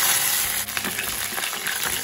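Green chillies and curry leaves frying in hot oil with tempering seeds, a loud, bright, continuous crackling sizzle with light stirring, close and unbroken, with no voices.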